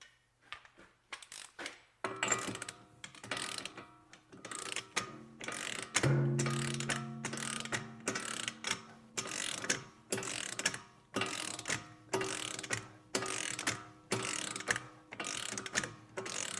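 A torque wrench ratchets in steady, repeated clicking bursts while tightening the rear axle nut on a Dodge Dart, close and clear with no talk.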